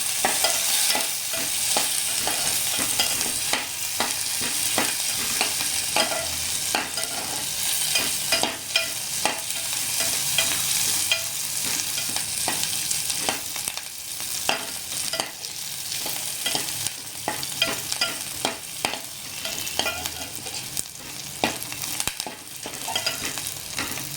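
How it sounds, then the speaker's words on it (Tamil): Onions frying in a pan, a continuous crackling sizzle with frequent scraping stirs, steady and fairly close throughout. "வெங்காயம் நல்லா பொரியணும்."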